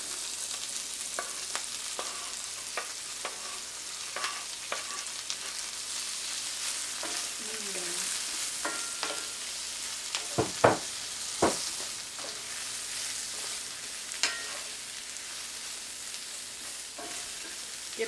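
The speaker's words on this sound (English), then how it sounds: "we'll get the onions and the mushrooms and the garlic into the pan" Onions, mushrooms and garlic frying in grease in a pan, a steady close hiss of sizzling throughout with occasional utensil clacks and stirring scrapes, no talking.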